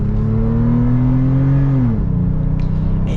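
A 2022 Toyota 4Runner TRD Pro's engine revs loudly from inside the cabin, the tone climbing steadily before dropping at a gear shift and settling into a lower drone.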